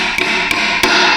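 Three sharp hammer blows ring out on an axle part of a Jeep Wrangler during rear axle bearing work, evenly spaced over steady background noise with no talk.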